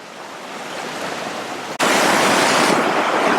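Loud, continuous rushing of high-water Sutter Creek, a dense roar that briefly cuts out and returns even stronger.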